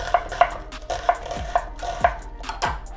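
A knife chops through an onion on a cutting board in a series of about seven firm, evenly spaced thunks, close and clear with no talking.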